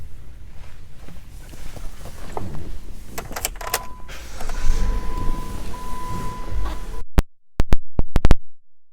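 Electric power windows on a 2016 Jeep Compass Latitude whir in a steady motor hum for a few seconds inside the quiet cabin, followed by several sharp clicks from the door and lock switches.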